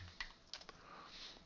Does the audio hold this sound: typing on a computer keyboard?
yes